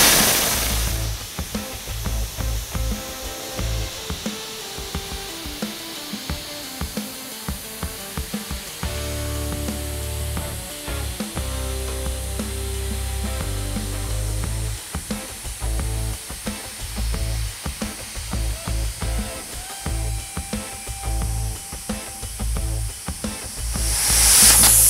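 A steady, harsh hissing roar of a plasma cutter slicing through metal, continuous and close, with small crackling shifts throughout and no talking.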